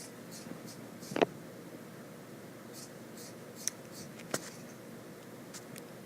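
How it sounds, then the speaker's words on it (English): Scissors snip strips along the edge of a fleece blanket, a few sharp separate cuts against a quiet room background. "you'll be cutting these 1 inch strips all the way around the entire blanket"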